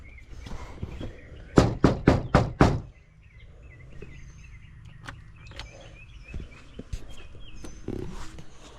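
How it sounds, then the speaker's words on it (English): Five quick, loud knocks on a door in an even rhythm, followed by quieter scattered thumps and faint background noise. "When I knock on doors like that"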